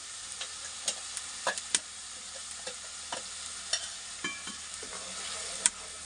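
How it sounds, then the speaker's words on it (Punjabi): Masala spices for an old-style aloo paneer sabzi roasting and being stirred in a pan, with a steady soft sizzle and intermittent scraping clicks of the spoon against the metal. "ਲਓ ਜੀ ਆਪਾਂ ਮਸਾਲੇ ਨੂੰ ਚੰਗੀ ਤਰ੍ਹਾਂ ਭੁੰਨ ਲੈਣੇ"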